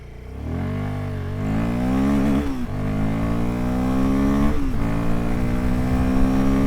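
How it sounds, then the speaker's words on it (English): A 2025 Royal Enfield Guerrilla 450 motorcycle in performance mode accelerates hard in third gear. The engine note climbs steadily in pitch with a couple of brief dips and stays loud and close throughout, with no speech. "we're going to be in third gear. We're in the performance mode."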